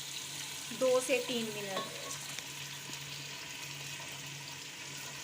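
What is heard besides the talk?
onions frying in ghee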